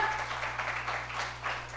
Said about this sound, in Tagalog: Wala bang palakpak si Lord dyan?